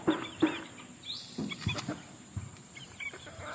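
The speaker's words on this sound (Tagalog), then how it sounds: "Magpapakain tayo ngayon mga kabakyard ng saging sa aking mga alagang sisiw" Pet chicks being fed unripe saba banana cluck and peep in short scattered calls close by, with light pecking and movement sounds between them.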